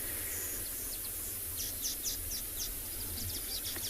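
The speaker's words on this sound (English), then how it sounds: "I can hear tawny-flanked prinia." Tawny-flanked prinia and weaver birds call on an afternoon safari in South Africa, with quick bursts of high chirps repeating in clusters over a steady low outdoor hum, moderately near and with no voices.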